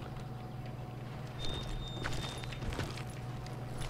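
Horse hooves clip-clop at a walking pace in the video game Call of Juarez, a steady moderate pattern of soft thuds over a constant low game ambience hum, with no talk.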